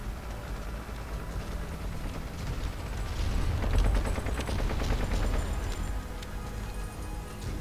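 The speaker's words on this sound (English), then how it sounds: "Panzer IVs have started to fire on their tanks." Panzer IV tanks firing amid battle in the WWII strategy game Total War: 1942, a dense rumbling barrage of shots and machine-gun rattle that swells to a heavy low boom midway before settling into steady distant fire.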